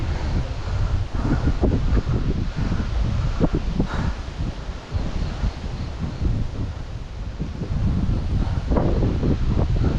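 Monsoon wind gusts steadily across an open viewpoint on a rainy day in Dharwad, a loud continuous rushing roar buffeting the microphone, with faint rustling beneath and no speech.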